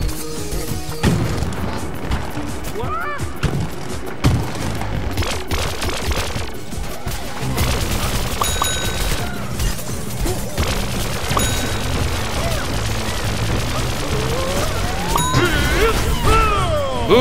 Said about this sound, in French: des pistopois vont nous attaquer